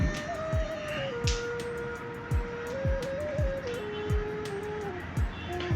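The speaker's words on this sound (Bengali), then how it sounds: "আজকে আপনাদের দেখাবো চাকা চালিত বুশ কাটার বা চালা চাকা চালিত ঘাস কাটা মেশিন" A wheel-driven brush cutter runs at a steady mid-pitched engine drone that wavers slightly, with sharp rhythmic ticks about once per second, close and moderately loud, and no talk.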